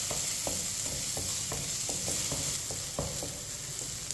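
Vermicelli roasts in a pan while a spoon stirs it, giving a soft steady sizzle broken by repeated scraping strokes at a regular rhythm, close up with no speech.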